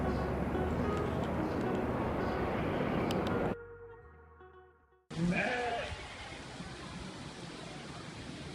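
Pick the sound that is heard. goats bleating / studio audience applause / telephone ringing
goats bleating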